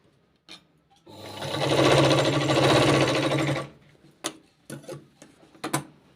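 Stitching a long sleeve, a sewing machine runs steadily for about two and a half seconds, then stops, leaving a few sharp ticks and clicks from handling the fabric.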